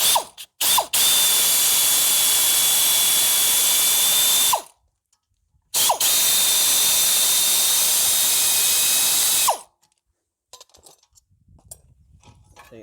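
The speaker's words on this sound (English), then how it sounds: "I'm cheating, air tools." A pneumatic air tool works on a brake caliper in two long, loud, steady bursts of several seconds each with a high whine, with short silences between them and faint clinks afterward.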